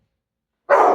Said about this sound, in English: someone walking a dog